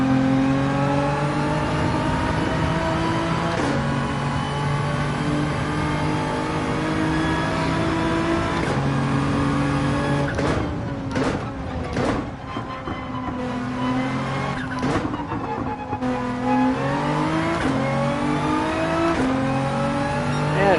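Nissan GT-R race car engine in Gran Turismo 7 at Interlagos, a loud sustained roar rising and falling through gear changes, with revving surges and shifts across a steady drone, no talk.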